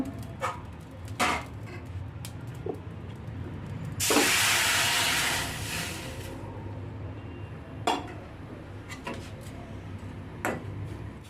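Water poured into a pan over freshly fried dried shrimp for a brinjal dish gives a loud hiss of steam midway, set among scattered utensil clicks and clinks.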